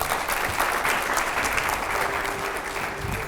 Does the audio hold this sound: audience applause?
yes